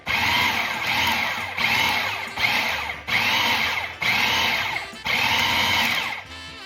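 A food processor pulses pie crust dough of flour, butter and cracked eggs in short motor bursts, about eight close, loud whirring pulses in a row, each starting hard and easing off before a brief pause.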